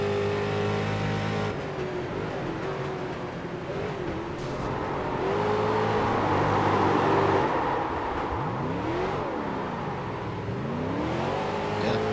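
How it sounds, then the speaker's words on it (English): A street stock race car in a sim racing game at Okayama International Circuit, its engine droning and then revving up and down as the throttle is rolled back on. Fairly loud, with pitch sweeps and no talk. "You could hear him roll back into the throttle to try and save it."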